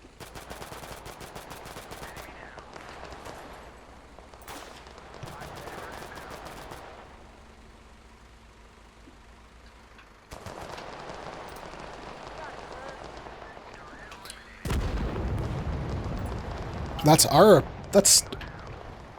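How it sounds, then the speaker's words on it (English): Gunfire and RPG rockets striking trees in the video game Total Conflict: Resistance, with scattered shots and bursts, a heavier rumbling impact near the end and sharp cracks, while a voice talks over much of it. "that's enemy RPGs hitting trees"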